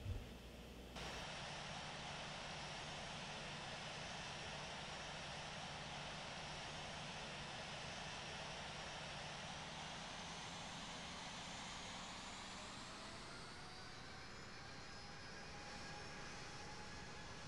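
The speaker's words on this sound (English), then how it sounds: "it will follow through the turn and uh, take off here" Airliner in the Infinite Flight simulator taking off from runway 25 right at LAX, a steady loud jet engine roar that holds throughout with a rising whine near the end as thrust builds.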